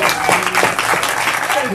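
Theater audience clapping at a stage hypnosis show, a loud, close burst of dense applause with voices mixed into it across the short span.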